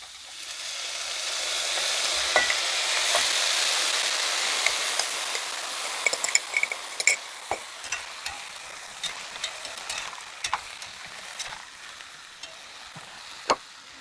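Canned stewed meat frying in a pan for a plov-style dish: a broad sizzle that swells then eases, broken by scattered spatula scrapes and sharp clicks against the pan, close and unaccompanied by talk.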